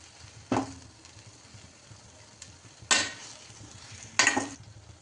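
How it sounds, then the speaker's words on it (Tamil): A spatula scrapes and stirs boiled eggs in masala inside a pan while cooking Tamil egg curry (muttai kulambu), with three short, sharp scraping bursts separated by quiet sizzling pauses. "முட்டையில நல்லா மசாலா ஏற வரை வதக்கிக்கலாம்."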